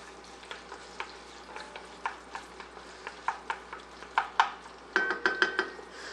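Chopped onions being stirred and sautéed in a pan for penne alla vodka, a soft sizzle beneath a series of sharp, close utensil clicks and scrapes against the pan that grow louder toward the end.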